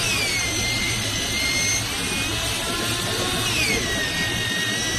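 A motorized hydraulic cutting machine runs on 20 mm uPVC pipe, giving a loud, steady mechanical drone under a high, thin whine that slowly shifts in pitch, continuous throughout and with no speech.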